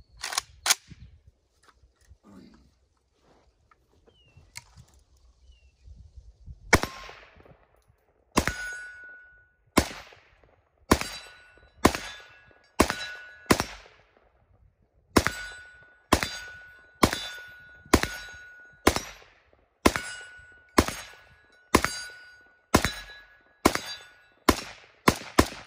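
An Arsenal SAM5-62 rifle fires at steel targets on an outdoor range, sharp loud single shots in a steady paced string, each followed by a ringing metallic clang from the steel downrange, after some quiet handling at the start.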